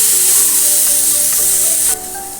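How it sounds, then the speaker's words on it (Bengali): Pieces of young green jackfruit sizzle steadily in hot oil in a wok for a Bengali curry, a dense, close frying hiss that runs throughout and softens slightly near the end. "তেল গরম হয়ে গেছে, এবার আমি কাঁঠালগুলো দিয়ে দিচ্ছি"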